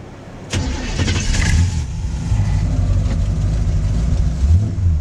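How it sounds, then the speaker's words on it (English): A 1951 Chevy custom with a 383 stroker engine fires up with a sharp starter burst and catches into a loud, deep, lumpy idle with a slight rev, heard up close and alone. "Let's start it up and I'll let you hear it."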